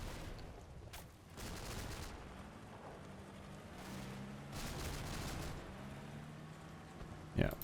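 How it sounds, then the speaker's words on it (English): Machine gun fire in the WWII strategy game Combat Mission: Battle for Normandy, heard as several faint, rapid bursts in the distance, spread over a low rumbling backdrop, with a sharper crack at the end. "Did we get another burst of MG5 from somewhere?"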